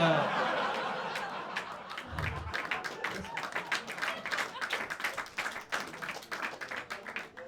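Comedy club audience at a stand-up half-hour special breaks into scattered applause and some laughter after a joke, dense clapping spread across the room and continuing steadily without a clear end.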